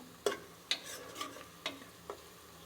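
Onions cooking in a pan for daal mash, with a few sharp stirring scrapes and clacks of a spoon over a faint, low sizzle, heard alone and close.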